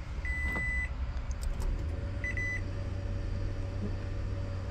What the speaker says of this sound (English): We're going to put it into ready.